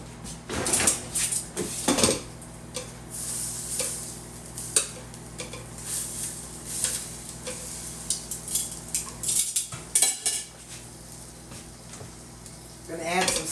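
Meat being flipped in a hot pan on a home stovetop, with clinks and scrapes of a utensil against cookware over a low background sizzle, near and fairly loud, with some talk in between.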